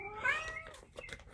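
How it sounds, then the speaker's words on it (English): A pet cat meows once, clear and fairly close, then makes a few softer chirping follow-up sounds in a quiet room. "Oh, that's my cat meowing,"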